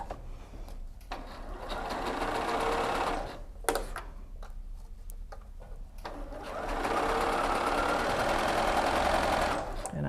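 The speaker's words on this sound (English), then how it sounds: "I'm guessing this needle needs to be replaced because I can hear it going through the fabric" A household sewing machine with a needle needing replacement stitches through fabric in two long whirring runs separated by a pause with clicks and handling, close and steady.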